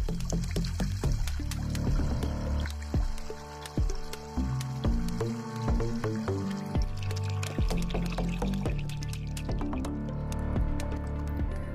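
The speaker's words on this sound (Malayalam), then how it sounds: "ഇനി നമ്മുടെ അക്വറിയത്തിലേക്ക് വെള്ളം വെച്ച് കൊടുക്കണം." Water is poured and splashed into a homemade cement aquarium fish pond, a steady close gurgle broken by irregular drips and splashes.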